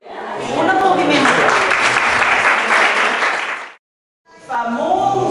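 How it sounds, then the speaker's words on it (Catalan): Applause from an audience gathered for a children's storytelling session, loud and sustained for several seconds, breaking off briefly before resuming, with some voices mixed in. "Un aplaudiment."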